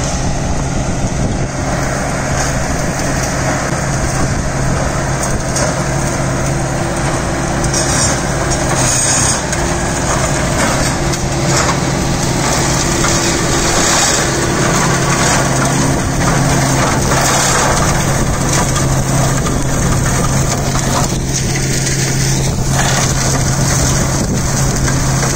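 A Deutz Fahr Agrolux 80 CRDI tractor drives a Maschio shredder through agricultural waste, a loud continuous engine drone with a steady hum and grinding, rattling texture throughout, no one speaking.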